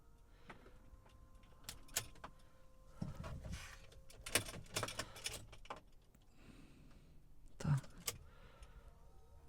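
Key turning and clicks as an electric Volkswagen Transporter ABT e-Long van powers on, with a series of close mechanical clicks, thumps and whirs in bursts, plus faint background talk.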